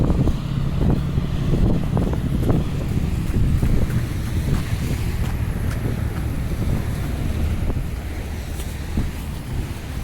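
Wind buffeting the microphone while walking outdoors through a North End neighborhood after a big snowstorm, loud rumbling gusts and low-frequency blasts nearly continuous, with faint distant street noise underneath.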